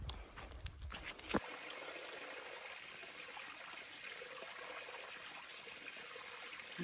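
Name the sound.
water stream trickling near trail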